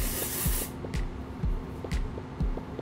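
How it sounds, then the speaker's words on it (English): A can of dry shampoo sprays onto the hair roots in one close, loud hissing burst that lasts under a second, and faint rubbing and handling noises follow. "I'm gonna jump right in with some dry shampoo and just spray the root of my hair"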